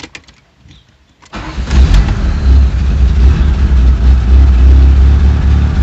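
A parked car covered in leaves cranks over and fires into life after a brief quiet start, then settles into a loud, steady low idle rumble close by.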